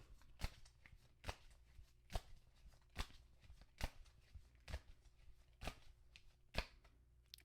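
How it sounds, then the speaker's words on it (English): Tarot cards being shuffled by hand, a series of about nine crisp riffling bursts spaced roughly a second apart, close and quiet against a faint background hum, with no speech. "That's why I kind of shuffle the way I do."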